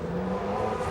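A TWR-built Jost Porsche race car accelerates out of the pits at Le Mans in 1996. Its engine gives a steady, loud droning roar, close by, with no speech.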